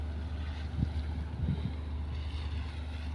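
Steady wind roar and low rumble of waves at sea under a gusty northeast monsoon wind, with a couple of soft thumps, constant and fairly loud.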